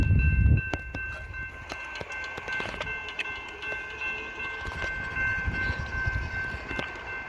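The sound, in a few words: Norfolk Southern freight train with locomotives passing Shenandoah Junction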